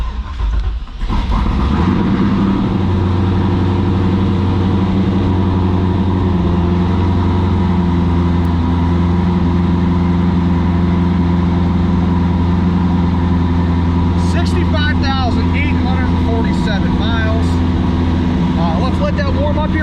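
A 2002 Chevy C5 Corvette Z06 with the LS6 V8 cranks and catches after about a second, then settles into a loud, steady, rumbling idle close by, with faint speech near the end.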